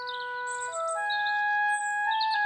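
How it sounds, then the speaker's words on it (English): A little cartoon bird sings a bright, clean series of whistled tweets and sustained chirping notes, loud and close with no other sound. "Ah, it's so lovely to wake up to the song of a little bird."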